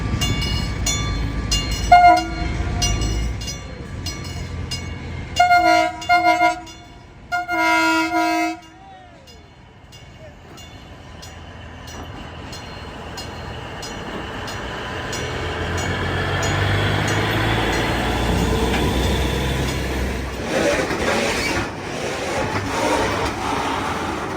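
A train horn blares in several short blasts, then the rumble of an approaching train builds steadily, growing louder and closer.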